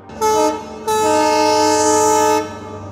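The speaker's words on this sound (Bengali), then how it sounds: "প্রায় সেই মুহূর্তেই ট্রেনের আওয়াজ শোনা গেল" A train arrives with two loud horn blasts, a short one followed by a longer sustained blare, over a low steady rumble.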